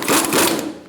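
A power tool whirs in one brief, loud, continuous burst close by while tightening the wheel lug nuts on a 2012-2018 Ford Focus 2.0L, with no talk.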